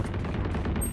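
Gunfire in the tactical shooter Valorant during a competitive match, a dense burst of rapid shots crackling continuously and fairly loud, with no talk.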